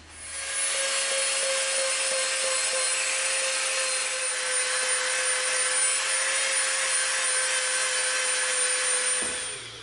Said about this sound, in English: And now we'll come back in with our smooth bit again.